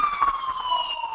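An ambulance siren near a campground sounds loud and close, with a steady wailing tone that slowly drops in pitch as the vehicle moves past.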